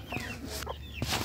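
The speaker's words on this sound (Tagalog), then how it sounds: "Yung inahin natin." Hen clucking in short bursts, a few soft clucks spaced across a second with faint background noise.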